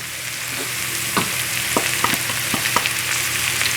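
Ground beef seasoned with cardamom, Maggi and salt sizzles steadily in a pan for spring roll filling, with a few sharp spoon scrapes and clicks punctuating the constant hiss.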